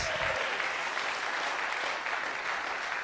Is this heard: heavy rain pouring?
no